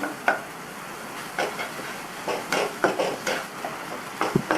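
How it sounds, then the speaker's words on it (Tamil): Ripe banana pieces sautéing in ghee for a sweet snack, with soft scattered stirring scrapes and light sizzle coming in irregular bursts, fairly quiet and close, no voices. "எல்லா வாழைப்பழத்தையும் இந்த மாதிரி லைட்டாக கட் பண்ணி விட்டுட்டு வதக்குங்க"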